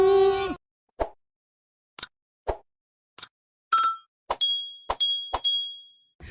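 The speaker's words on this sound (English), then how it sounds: "hit that little notification bell. ping!" A notification bell effect sounds as a string of short, bright pings and plops in near silence, some ending in a clear sustained ring, with no voices.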